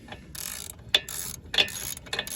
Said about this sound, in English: I'm using a 17 millimeter to get these bolts off the bracket.